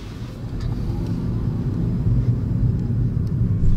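A 2016 Toyota Prius rolls along with no pedal input, giving a low steady road rumble and faint engine hum that swells slightly as it goes.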